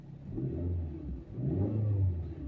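A car engine revs twice in low, rumbling surges, close by, with a brief dip between the two swells.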